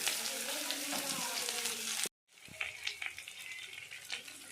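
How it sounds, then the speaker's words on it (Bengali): Onions tossed into hot oil already seasoned with bay leaf and panch phoron give a steady, close sizzle that breaks off abruptly for a moment. The frying then resumes more softly, with scattered pops and stirring clicks. "এবার একটু পেঁয়াজগুলো দিয়ে দেবো"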